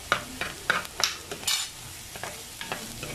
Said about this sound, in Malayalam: ഇനി നമുക്കിതിലേക്ക് 1 ടേബിൾ സ്പൂൺ ഇഞ്ചിയും വെളുത്തുള്ളിയും കൂടെ ഞാൻ ചതച്ച് വെച്ചത് 1 ടേബിൾ സ്പൂണാണ്.